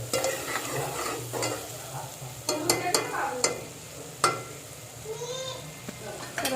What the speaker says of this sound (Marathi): त्याच्यानंतर याच्यामध्ये हळद आणि घरी बनवलेला मसाला तो घालून छान मस्त परतून